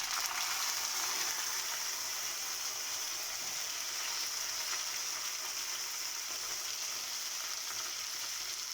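Drumsticks and small cut raw mango frying in oil with wilted onion and curry leaves for a tamarind pulusu, a steady close sizzle throughout with no talk.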